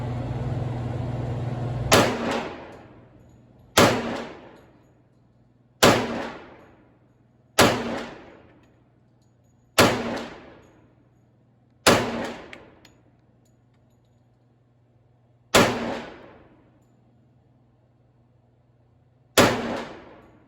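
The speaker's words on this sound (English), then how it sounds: "That's 8 rounds from the Kimber." Eight loud pistol shots from a Kimber handgun fired at a target 10 yards away at an outdoor range, spaced irregularly about two seconds apart, each a sharp crack with a ringing decay, and no talking.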